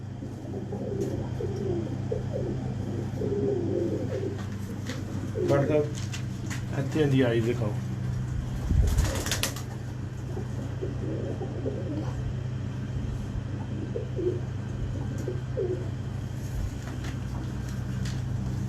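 A Sialkoti pigeon chick makes soft, intermittent coos close by, set against a steady low rumble, with someone talking briefly over it.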